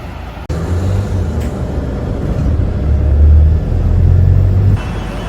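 Road traffic at Victoria bus and train station in London, with vehicle engines rumbling loudly and steadily nearby, swelling as a heavy vehicle passes, after a sharp knock at the start.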